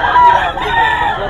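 A yellow-legged hatch stag rooster crows loudly and close, one drawn-out strained call lasting just over a second with a brief dip partway through.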